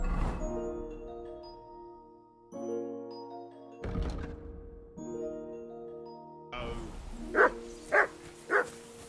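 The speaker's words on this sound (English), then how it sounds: "Do something with that mutt, Henry." A dog barks three times near the end of a Kingdom Come: Deliverance II scene, sharp distinct yaps following a stretch of sustained musical tones.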